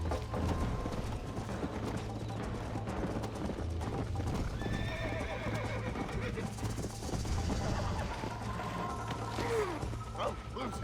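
A horse in the Red Dead Redemption video game gallops with quick, steady hoofbeats and lets out whinnying neighs, loud and continuous amid layered game effects and faint voices.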